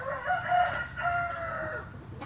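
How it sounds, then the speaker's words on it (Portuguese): Broody hen in a Brazilian backyard flock clucking, a few short throaty calls heard close by with no one speaking. "Tem uma galinha choca aqui."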